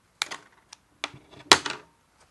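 Plastic Featherlite boning being cut to length, heard as three separate crisp snips and clicks spread over about two seconds, close and fairly quiet with no talk.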